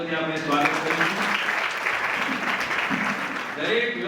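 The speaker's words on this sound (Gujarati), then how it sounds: "તેઓનું જોરદાર તાળીઓથી આપણે સ્વાગત કરીશું" An audience at an educational seminar claps to welcome the chief guest, a moderately loud, continuous round of applause with voices mixed in.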